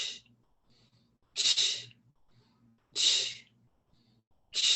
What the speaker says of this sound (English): So you're squeezing and making the ch sound at the same time.